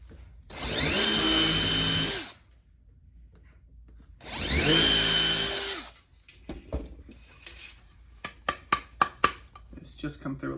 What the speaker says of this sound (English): So let me drill these and I'll show you guys how that will look.